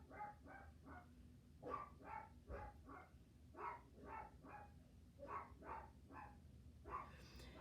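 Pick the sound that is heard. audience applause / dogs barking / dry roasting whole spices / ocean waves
dogs barking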